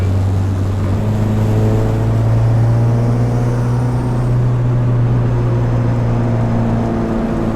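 Boosted car engine holding a steady, loud idle-to-rev drone, with a continuous low rumble and no clear exhaust pops, in Washington State.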